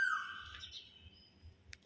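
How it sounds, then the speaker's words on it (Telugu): An Asian koel calls in a garden, one clear rising and falling whistled note close by at the start, fading over a second, then a short sharp chirp near the end. "కోయిల సౌండ్ వింటుంటే ఎంత బాగుందండి"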